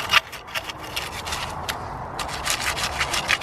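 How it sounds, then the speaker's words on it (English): Hands rubbing sandy soil down against plant roots in a garden planting trench beside a wall, a steady close scraping and rustling with repeated gritty strokes, no talk. "Just rub some soil down."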